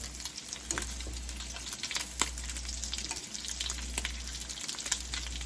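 Bacon frying in a pan, a steady close crackling sizzle with scattered sharper pops, alongside a low constant hum in the background.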